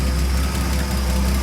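A Ford F-150 with a blown motor idles close by, giving a steady, loud rumbling drone with an even low throb and no voices.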